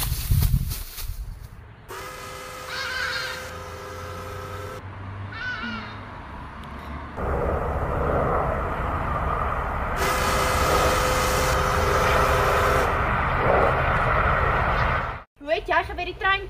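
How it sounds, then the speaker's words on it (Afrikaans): A train approaches and rumbles past on a railway line beyond a fence, a loud, sustained roar building through the middle and cutting off near the end, with crow-like calls and brief voices early on. "Hoe het jy geweet die trein kom?"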